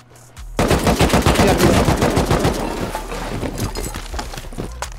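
Dense, loud automatic gunfire from the video game Rust bursts in after a brief quiet start, with rapid shots continuing steadily through the firefight.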